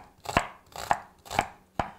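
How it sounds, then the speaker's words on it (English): Onions being chopped with a knife on a cutting board, four crisp, evenly spaced blade strikes in quick succession, close and clear with no talking. "very quickly I'm going to cut some onions just to get that flavor"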